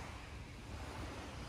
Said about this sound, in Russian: Слышишь море?